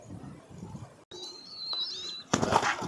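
A spotted dove call sweeps in a thin, wavering line after a brief gap, followed by a rustling burst like wings flapping close by.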